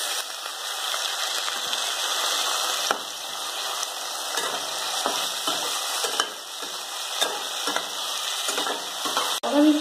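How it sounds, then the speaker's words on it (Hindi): Tomatoes sizzle steadily in hot oil for a jackfruit curry, with repeated scraping and clicking spoon strokes against the pan, close and loud with no voices. "अब हम इसमें टमाटर ऐड करेंगे।"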